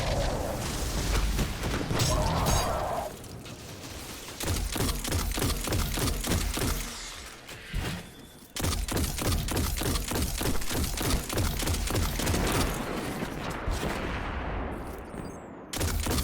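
Gunfire in Destiny 2 during a Lost Sector run: dense rapid bursts of shots and booms pile into a near-continuous loud barrage, with a short lull near the middle and no talk over it.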